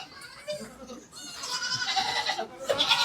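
Bantam goats and young kids at a breeding setup in Pune bleat in overlapping, high cries that grow louder and more crowded, heard close alongside people talking.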